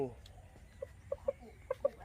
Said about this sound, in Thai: ไก่สุ่มอยู่ในนี้ด้วย นี่ไก่ชนป่ะนะ